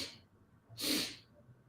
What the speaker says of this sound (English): we're going to inhale in 4 sniffs